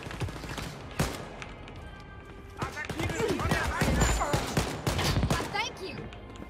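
Repeated gunfire from the first-person shooter Wolfenstein Youngblood, with sharp shots in irregular bursts over combat noise and a voice talking.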